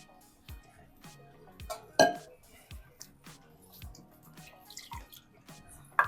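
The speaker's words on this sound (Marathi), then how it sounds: "हे आता मिक्सरचं भांडं धुवून घेते" Water drips and splashes while a hard mixer grinder jar is washed, clinking and knocking against a surface, in irregular bursts with quiet gaps between.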